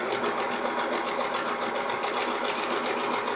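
A sewing machine runs continuously and close up, stitching quilt fabric with a scant quarter-inch seam and giving a fast, even mechanical hum with no pauses.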